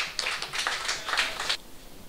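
A small audience at the reopening of a refurbished theatre claps for Mr. Dikeres, a brief burst of overlapping handclaps that stops abruptly after about a second and a half.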